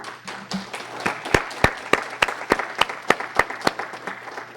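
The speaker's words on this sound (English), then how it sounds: "Let's give them a round of applause." Audience at a council meeting applauding, a small group giving sparse, distinct handclaps that build into a steady, moderately loud round before tapering off.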